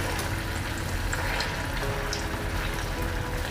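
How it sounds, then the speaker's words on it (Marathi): Potato cheese balls deep-frying in hot oil, a steady close crackling sizzle that holds even and continuous throughout with no voices. "सगळ्या बाजूंनी नीट तळले गेले पाहिजेत बॉल्स ते तुम्ही बघू शकता किती छान तळले जात आहेत"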